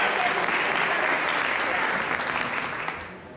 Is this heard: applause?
yes